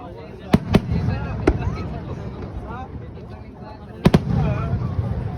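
Fireworks bursting at a 2025 display in Japan: sharp loud bangs near the start, a single pop mid-clip and a double burst later, over steady crowd chatter and people talking nearby.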